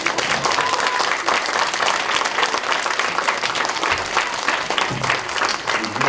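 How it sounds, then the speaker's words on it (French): Sustained loud applause from an audience at a performance, thick and continuous clapping with crowd murmur mixed in. "Il faut applaudir très très très fort."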